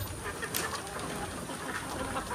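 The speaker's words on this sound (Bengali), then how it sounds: "আর মোরগগুলো আপনাদের একটু দেখাই দিই।" Roosters on a backyard poultry farm, birds with missing tail feathers, give brief clucks and rustles against a steady, noisy background, with no talking.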